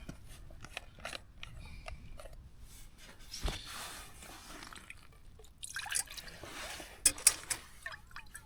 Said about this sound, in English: and then finally give it a rinse with some clean water